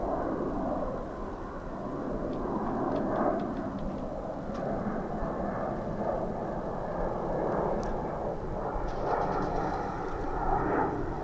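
Airplane at DFW International Airport in Texas, heard from Founders Plaza: a broad, steady engine roar that swells and holds for several seconds, with a few faint clicks and ticks over the top.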